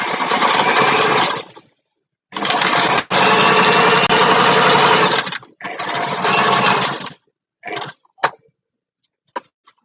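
A sewing machine stitching the small pleated pipes of a Danish priest's collar: loud, steady motor-driven whirring runs of a few seconds each, split by short pauses, ending in brief stop-start bursts.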